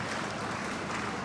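Applause for the Prime Minister at the opening ceremony of a rural entrepreneurs' carnival, a brief, steady wash of clapping from a crowd, fairly faint and distant throughout.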